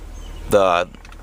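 The electric rear headrests of a 1992 Mercedes-Benz 300E drop with a short motor whine that lasts under half a second, close and clear over a quiet cabin hum.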